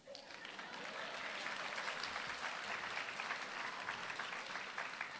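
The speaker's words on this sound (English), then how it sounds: "You can clap for that." Applause at a 2024 senior graduation ceremony for the Denzel Washington School for the Arts, a dense crowd clapping steadily for about five seconds, loud and unbroken, with no voices over it.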